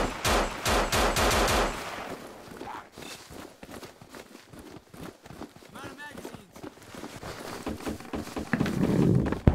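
Bursts of gunfire from a zombie survival shooter, No More Room in Hell, rattle in rapid clusters at the start and again near the end, with footsteps and a voice talking through the middle.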